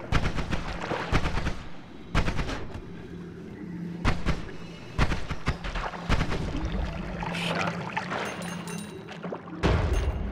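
Heavy booming blasts from the video game Noita, several sharp thuds scattered irregularly through the clip over a low rumbling background.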